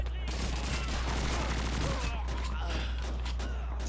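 Gunfire in the video game Call of Duty 2 crackles as dense, continuous volleys of shots, loud and busy from start to finish over a low steady hum.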